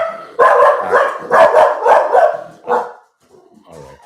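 Dog barking indoors after the doorbell rang: a loud, close burst of several rapid excited barks with yips, then a pause and a few softer whimpering sounds, no talking over it.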